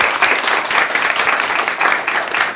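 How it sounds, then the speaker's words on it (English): Audience applause at the end of an astrophysics summer colloquium talk, a steady crackle of many hands clapping at moderate volume with slight pulsing, sustained throughout. "Castro another round of applause."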